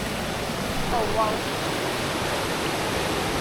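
River rapids near Chiang Mai rush steadily and loudly as a dense, constant roar of water, with a brief faint voice partly buried in the noise.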